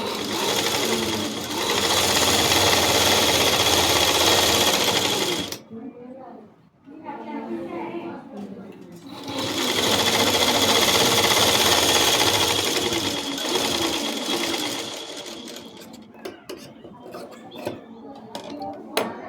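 Sewing machine stitching the gathered bottom seam of a frock, loud steady whirring runs in two long bursts separated by a quiet pause, then shorter intermittent stitching, with a voice speaking between runs.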